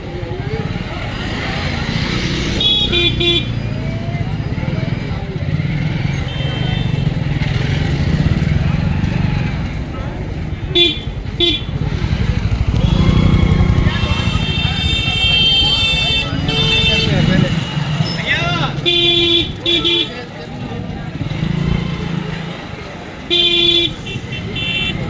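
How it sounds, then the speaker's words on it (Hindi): Busy street traffic in Aminabad market, Lucknow: a loud, constant rumble of cars and motorbikes with repeated short horn toots, and voices talking over the din. "ये अमीना बाज़ार है, बहुत बड़ा लखनऊ का बाज़ार है।"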